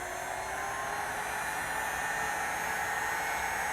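Heat gun blowing hot air onto a plastic car bumper cover, a constant close whooshing roar with a steady hum and no breaks.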